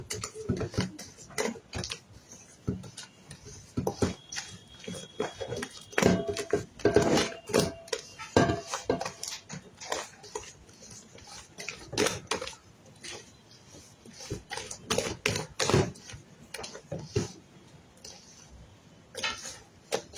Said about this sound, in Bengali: এখন যখন আমরা ইয়াটা দিচ্ছি, কি যেন ময়দাটা দিচ্ছি, তখন কিন্তু হাতে মিক্সড করতেছি।